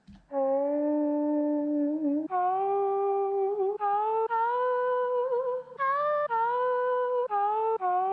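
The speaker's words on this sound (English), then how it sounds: "This is the vocal chop." A pitched vocal chop sample in a lofi beat, sustained sung tones that jump between notes in a looping pattern, clear and alone with no talking.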